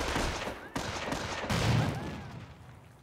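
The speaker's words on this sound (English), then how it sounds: "Your squad is taking enfilade fire from that MG." Bursts of MG-42 machine-gun fire in the Company of Heroes World War II strategy game rattle through a dense, loud battle din, with sharp onsets and a gradual fade.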